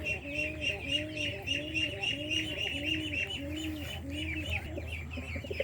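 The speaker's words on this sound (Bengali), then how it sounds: "এগুলো ধান দিছে মুরগি," Chickens cluck repeatedly while pecking at paddy grain, a steady rhythmic run of close clucks and chirps with a few higher calls mixed in over a low background hum.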